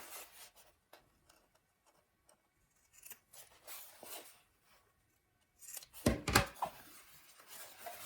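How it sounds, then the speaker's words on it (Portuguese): Scissors snip through fabric at the corners of a sewn shopper bag, a short cluster of crisp cuts near the end after quiet handling and rustling. "Agora, simplesmente, eu vou cortar os cantinhos."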